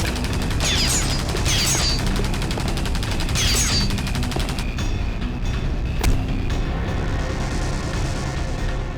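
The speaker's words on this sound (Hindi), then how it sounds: "बहुत हो गई तेरी गोलीबारी।" Loud gunfire from a TV crime drama, with rapid bursts of automatic shots and single cracks in a noisy, dense action scene that continues throughout.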